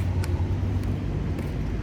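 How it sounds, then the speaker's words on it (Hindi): A car approaching along a street gives a low steady engine and road rumble close by, with a few brief higher clicks over it and no talk. "भाई गाड़ी आ रही है"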